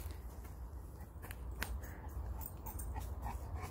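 A Cane Corso dog makes soft, faint whimpers and breathy panting close by indoors, with light shuffling sounds around it.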